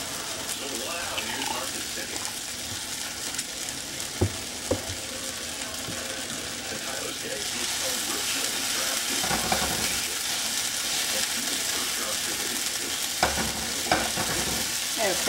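Garlic sizzles and fries in a pan with steady crackling, broken by occasional stirring scrapes and clinks, while someone talks over the cooking.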